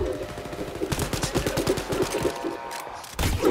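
Shotgun and rapid gunfire from a video game firefight, a string of sharp bursts crowding together through most of the stretch, with a short lull before one last loud blast.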